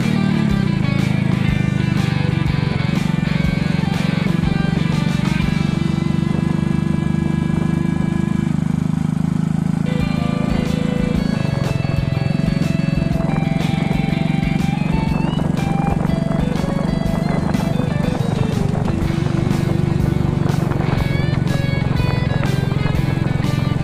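A BMX-style motorbike engine drones steadily and loudly at close range while riding, including downhill, with a low, sustained rumble and occasional shifts in pitch.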